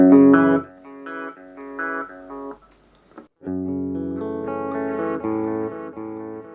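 Electric guitar through an echo filter delay effect plays sustained distorted notes and chords, with each phrase trailing into repeating echoes and a short quiet gap midway.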